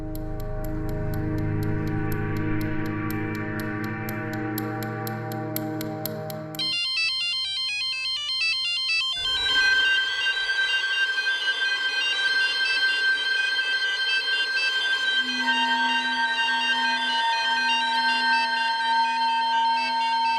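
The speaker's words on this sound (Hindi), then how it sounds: "फ़ोन उठाइए" A phone rings loudly and steadily for about twenty seconds with a repeating electronic ringtone that shifts its melody partway through, in a Hindi crime drama scene.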